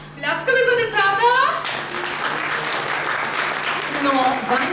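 Audience applauding children at a first-grade letters celebration at a school, steady clapping crowd sustained throughout, with a voice speaking over the start and end.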